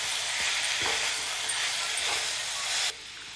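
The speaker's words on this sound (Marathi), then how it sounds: "आता आपण यामध्ये हे भिजवलेलं सोयाबीन घालूयात। आता हे व्यवस्थित मिक्स करून घेऊया।" Soaked soybeans are stirred into vegetables sizzling in a pan, a bright, continuous frying hiss with a few scraping strokes that drops off abruptly near the end.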